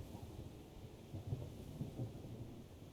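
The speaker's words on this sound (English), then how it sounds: "Oh, there goes the thunder." Thunder in the video game Train Sim World 3: a faint, distant low rumble that rolls on for a few seconds, swelling slightly in the middle, with a soft rain-like hiss beneath.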